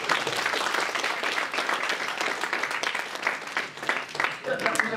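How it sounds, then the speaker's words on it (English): An audience applauds at the end of a lecture on Olympic weightlifting, a steady wash of clapping from many hands that lasts throughout, with a voice speaking over it. "A round of applause."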